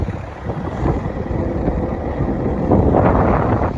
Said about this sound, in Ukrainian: Ну а отак отакий фон взагалі, вітер такий дує